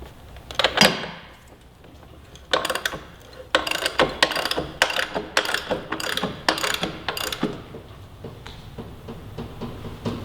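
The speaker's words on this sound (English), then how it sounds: "we'll be able to torque the axle nut back down" A ratchet wrench tightens the rear axle nut on a 2017 Yamaha R6 sportbike: a close, loud series of clicking ratchet strokes in uneven bursts, with a metallic clank near the start and no talk.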